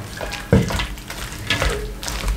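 Water is poured into a batter for motichoor ladoo while it is stirred, giving uneven splashing and sloshing with a few louder bursts as the mixing goes on.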